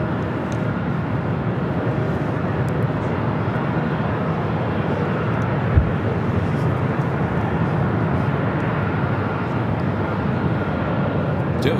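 An Asiana Cargo jumbo jet touches down on runway 25 left at Los Angeles, giving a continuous low roar of engines and rolling wheels that stays even, with one brief thump midway and a voice over the top.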